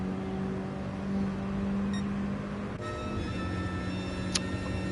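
Steady engine drone from a Mini Cooper race car on an onboard lap in a racing video game, holding a constant pitch with a shift in tone near the middle, loud and continuous with no talk.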